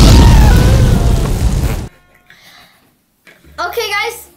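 A loud, rumbling boom from a TNT detonation in a Roblox playset game opens the clip and dies away over about two seconds, followed by quiet rustling and a child's brief speech.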